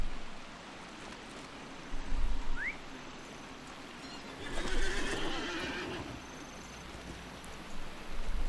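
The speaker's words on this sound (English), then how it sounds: "I think we can get there from the horsey ride here." A horse in the online game LOTRO gives a short, rising whinny, followed by a swelling rush of movement and hoofbeat noise over a steady game-ambience hiss.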